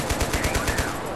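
Rapid automatic gunfire in the war shooter Total Conflict: Resistance, about eight sharp shots in a quick even burst lasting under a second, then a short ringing tail.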